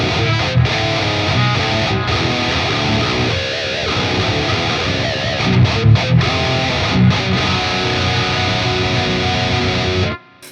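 Electric guitar distorted through a Quad Cortex grind effect, played loud and continuously for about ten seconds of dense riffing with brief accents, then cut off abruptly at the end.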